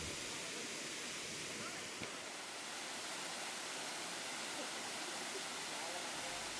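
Constant rushing water from a waterfall, the second tier of Putri Kembar falls in Indonesia, fills the scene, a steady even roar with no pauses, moderately loud.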